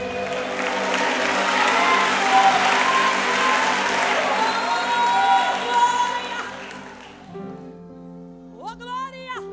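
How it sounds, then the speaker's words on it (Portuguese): A church congregation at a Pentecostal gathering breaks into loud sustained applause with some cheering, fading out after several seconds before a brief spoken voice. "Você pode aplaudir ao nome do Senhor nessa tarde?"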